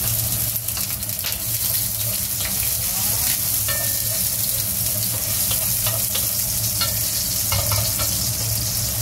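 Garlic for pork adobo fries in a hot pan with a steady, loud sizzle and crackle that runs the whole time, with occasional stirring scrapes.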